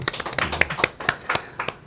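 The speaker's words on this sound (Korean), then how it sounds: "박수 한번 쳐드리고" A small group claps at a city council interview event, a quiet, sparse patter of individual hand claps in an uneven rhythm, heard at a distance.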